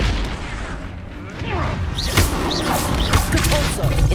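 An Expulso blasting spell explodes in the Hogwarts Legacy video game, a loud booming blast with crashing impacts over continuous heavy game noise.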